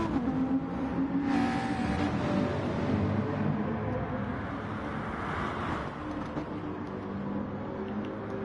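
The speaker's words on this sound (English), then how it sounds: "There's still T64 Turbo trying to overtake Legacy." Race cars in a sim racing game at the Lago Maggiore circuit rev and accelerate, their engine tones rising and shifting over a steady, moderately loud engine drone that fills the whole stretch, with no talking.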